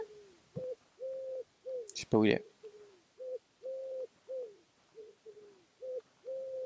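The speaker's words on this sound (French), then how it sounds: "J'entends un petit... Euh, un petit coucou." A cuckoo coos in a steady series of soft, repeated calls, with a brief burst of close speech partway through.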